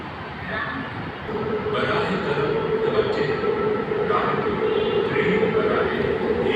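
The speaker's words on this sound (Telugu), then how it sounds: "రాయదుర్గ్ వెళ్ళే ట్రైన్ వస్తుంది. ఎల్బీ నగర్ నుంచి రాయదుర్గ్ వెళ్ళడానికి ఈ ట్రైను ప్లాట్ఫామ్ నెంబర్ 2 పైకి వచ్చి ఉన్నది." Hyderabad metro train arriving at Peddammagudi station platform, bound from LB Nagar to Rayadurg, a steady rumbling drone with brakes and wheel noise that swells after the first second and holds loud and close.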